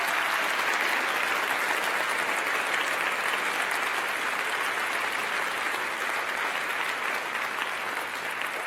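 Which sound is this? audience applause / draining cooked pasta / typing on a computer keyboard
audience applause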